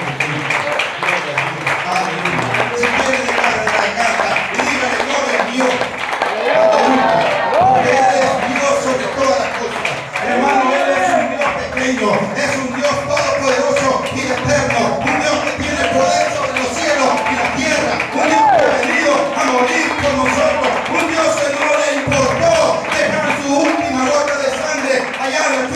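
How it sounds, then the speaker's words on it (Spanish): A congregation applauding during a Spanish-language men's church service, dense steady clapping sustained throughout over organ or music, with voices mixed in. "Denle un aplauso fuerte al Señor"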